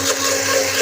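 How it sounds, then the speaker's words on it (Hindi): Blender whirring steadily as it mixes chilled milk and oil into eggless mayonnaise, a loud, close, continuous motor hum with a bright whooshing churn. "ब्लेंडर को आपने चलता रहने देना है"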